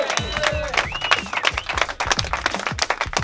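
Audience applause and cheering welcoming a guest guitarist onto the stage at a masterclass in Paris, dense, steady clapping from a close crowd with a voice briefly audible among it.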